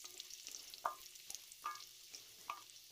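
Dried red chillies frying in a pan for a simple kara chutney, a faint steady sizzle with a few soft scraping stirs spaced about a second apart, quiet and with no voices.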